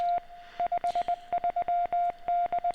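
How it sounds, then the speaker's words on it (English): Morse code beeps from the video game The Secret World: a steady single-pitch tone keyed in short dots and longer dashes, clear and alone with no voices. "I'm not going to translate Morse code."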